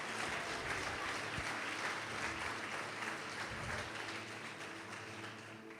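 A church congregation applauds, sustained dense clapping from a crowd that holds steady then gradually fades slightly toward the end.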